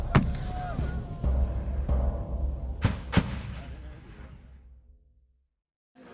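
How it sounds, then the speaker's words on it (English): Three Marine Corps artillery guns firing on a target: a few sharp, heavy booms over a low rumbling background, with two close blasts near the end before the sound fades to silence. "all 3 guns will fire for the prescribed effect on that target"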